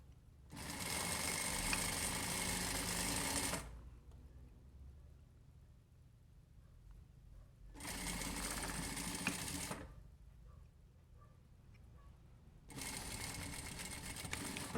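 Sewing machine stitching the collar of a formal shirt, three steady bursts of fast, even whirring separated by quiet pauses, close and moderately loud.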